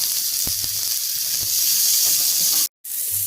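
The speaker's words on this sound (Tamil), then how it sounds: "வெங்காயம், கருவேப்பிலை, வரமிளகா," Onions, curry leaves and dried and green chillies sizzle in hot oil for sambar, a bright steady hiss with a few low knocks of the spoon and a brief dropout near the end.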